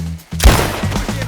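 Gunfire in the online game Red Dead Redemption 2: a single sharp, loud shot bursts out and rolls into a rumbling reverberating tail within about a second.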